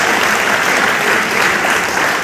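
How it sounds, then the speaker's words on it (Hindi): Sustained audience applause fills the room at a business leadership event in Kolkata, dense and loud clapping from a large crowd holding steady throughout without a break. "मैं चाहूँगा उनके लिए जोरदार ताली आप लोग बजाएं।"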